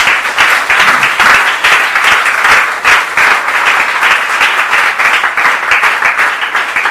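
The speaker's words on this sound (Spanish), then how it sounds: "da un aplauso al Señor" Sustained, loud applause from a church congregation, dense and even clapping filling the room without pause, with no talk over it.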